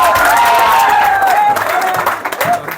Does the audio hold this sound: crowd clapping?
yes